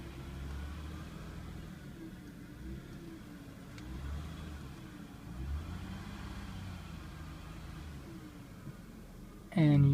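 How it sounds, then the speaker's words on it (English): An idling Toyota Avalon gives off a faint, wavering electrical whine that rises and falls above a low engine hum, heard up close in quiet surroundings before a louder burst at the end. "Got a bit of a whining noise in my car."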